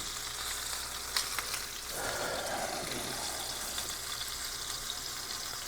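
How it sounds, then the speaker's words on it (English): Steak and big pork chops searing in a hot pan, a steady close sizzle and frying hiss running throughout with a brief swell of spattering near the middle. "I'm going to go ahead and get these sort of seared on both sides."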